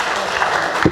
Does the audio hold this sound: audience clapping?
yes